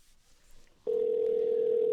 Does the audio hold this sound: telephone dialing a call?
yes